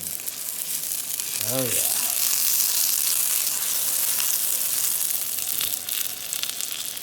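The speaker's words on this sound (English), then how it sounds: "Put the butter on and put the onion" Onion frying in butter on a griddle for a smash burger, a loud steady sizzle close by with a brief voice speaking near the start.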